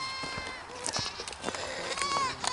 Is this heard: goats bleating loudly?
yes